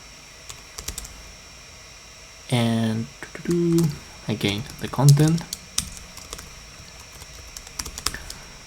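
Light, rapid clicking of keys on a computer keyboard throughout, with someone speaking briefly over the typing in the middle.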